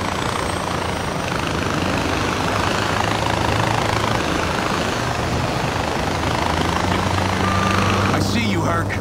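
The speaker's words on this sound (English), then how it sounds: "Found the chopper, Herc." Helicopter engine in the video game Far Cry 4, a steady loud rotor drone filling the whole stretch, with low throbbing and broadband whir continuing throughout.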